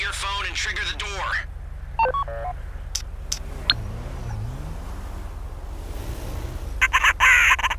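In GTA Online, a phone dials to trigger a bank vault door, with short beeping tones rising among game effects under steady background sound and occasional speech.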